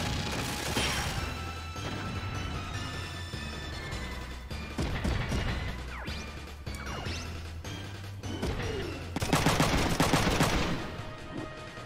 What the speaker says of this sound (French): On va tirer avec le fusil à pompe.